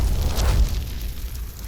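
A firecracker lit from a torch and thrown onto a fire beacon bursts in a single deep, rumbling explosion that swells briefly and then fades into a sustained low roar of burning.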